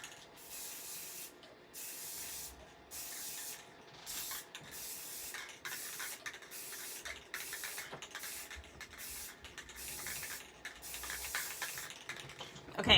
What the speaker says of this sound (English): I just sprayed.